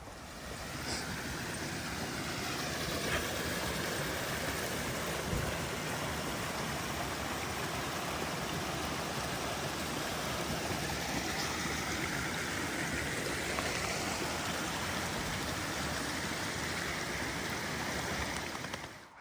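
Small waterfalls in an old woodland produce a continuous, even rush of flowing water, fairly faint and steady for the whole stretch with no voices.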